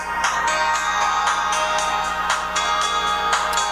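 A song plays from a phone speaker as a loud, steady piano-led passage, its notes sounding at a regular rhythm, with no talking over it.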